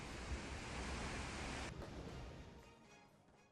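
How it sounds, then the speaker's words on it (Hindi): High storm waves surging along the coast at Sochi, Russia, a dense, continuous roar of surf that fills the whole clip, loud at first and easing slightly toward the end. "ऊंची लहरें उठ रही हैं।"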